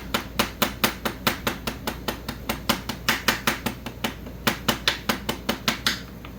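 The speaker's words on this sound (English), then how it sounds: "this is one of the reasons why I bought this hammer. See how small the ball peen part of it is?" Small ball peen hammer striking a hard surface again and again, about thirty sharp metallic taps in quick, fairly even bursts, close and clear with no talking.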